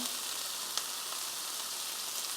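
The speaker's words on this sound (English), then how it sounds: "let it saute for about another 5 minutes" Black pepper and spices sauté in a pan for Jamaican ackee and saltfish, giving a steady, close hiss of frying oil with a few faint clicks and no talking.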